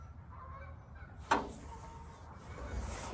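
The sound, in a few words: geese honking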